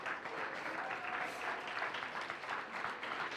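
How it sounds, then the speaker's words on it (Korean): An audience at a Korean university ministry gathering applauds steadily, a dense wash of clapping held at an even level throughout. "박수로 축복하고 격려하겠습니다"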